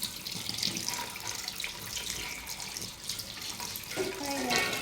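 Tap water runs steadily into a sink as a small child washes their eyes, giving a continuous close splashing hiss, with brief voices and a child's sounds rising over it near the end.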